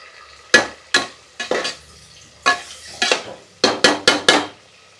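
Onion and tomato sauté in a pan, heard mostly as a series of loud, rhythmic scraping and clanking strokes of a spoon against the metal, with a soft frying hiss underneath.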